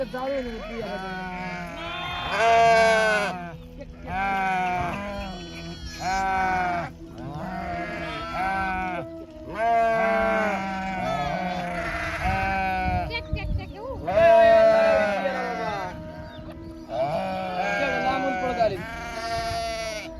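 A flock of sheep and lambs bleat loudly and repeatedly, their overlapping calls coming in waves with brief lulls between them.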